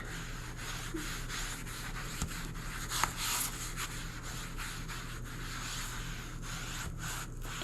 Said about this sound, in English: you can tell already how shiny it is just by scrubbing it a little bit